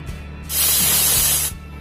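A pressure cooker cooking mutton curry on low flame lets out a sharp, loud whistle hiss of escaping steam lasting about a second, with a low kitchen hum before and after.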